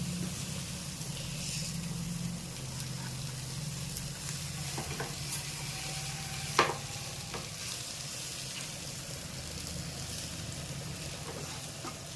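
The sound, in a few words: fish fry sizzling in a pan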